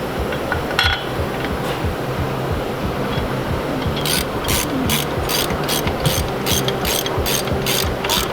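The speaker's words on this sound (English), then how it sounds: "we'll just tighten them with the ratchet" A hand ratchet tightens the brake caliper bolts on a Ford E-Series van, its sharp rapid clicks coming in a regular burst of strokes in the latter half, loud and close over a low background hum.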